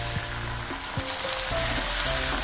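A paste of onion, tomato, garlic and ginger fries in hot oil as the base for a besan sabji. The sizzle is continuous and close, with soft stirring scrapes throughout and no voices.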